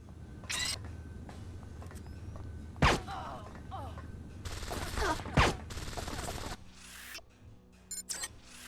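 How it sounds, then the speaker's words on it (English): Sniper rifle gunfire in the Xbox game Deus Ex: Invisible War: a few sharp, loud single shots spaced apart, mixed with other game effects over a low rumbling background. "We're going in guns blazing here because sniper rifle for the win"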